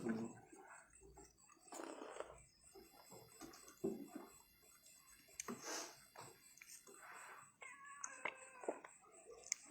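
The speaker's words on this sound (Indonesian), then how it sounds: "Ini kucing." A cat meows repeatedly in a quiet indoor room, a string of separate close cries spread across the span, some drawn out like a caterwaul.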